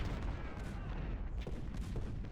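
Dense, continuous battle noise of artillery and musket gunfire from the Civil War strategy game Ultimate General, Gettysburg first day, with overlapping booms and crackling shots filling the whole stretch at steady loudness.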